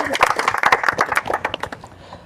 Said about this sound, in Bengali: আমরা একটা হাততালি দিই